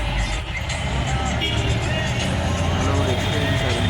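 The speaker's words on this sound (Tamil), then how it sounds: "சிட்டிக்குள்ளே இறங்கும்போது பயங்கர டிராஃபிக்கு" Heavy city traffic in Madurai, steady near engine rumble and road noise with faint beeps and crowd babble throughout, with people talking under the din.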